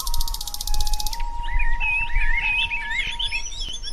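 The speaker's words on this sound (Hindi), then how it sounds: "बहुत सारी पक्षियों की कोलाहल था।" Cartoon forest ambience: many birds chirp and twitter in quick, overlapping calls after a brief buzzing pulse at the start, with a steady faint tone running underneath throughout.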